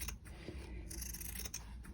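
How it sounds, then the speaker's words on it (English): Scissors snip through quilting fabric for an improv quilt block, several quick close cuts with crisp blade closures at an uneven pace, and no one speaking. "I need to oil the hinge on these scissors"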